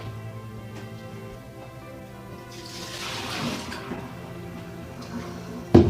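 Water is emptied from a thermos and poured in, a soft, steady stream swelling in the middle before trailing off, ending with a sharp clunk.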